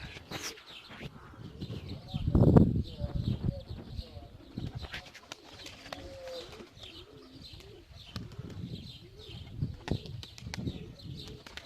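Tumbler pigeons coo and chirp outdoors with a burst of flapping wings, soft bird calls scattered across the scene.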